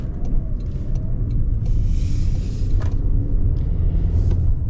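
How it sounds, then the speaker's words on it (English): Steady low rumble of a Toyota Corolla Cross driving with its CVT transmission, a constant cabin drone and road noise throughout with no talk. "you do feel the kind of whirring of the CVT quite a bit"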